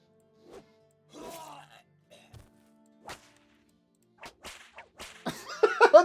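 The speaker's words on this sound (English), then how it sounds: "Every time I hear those whip crack sound effects," Whip cracks from the video game Battle Brothers snap out several times in sharp, isolated bursts, scattered across quiet gaps, alongside thuds and a grunting voice near the end.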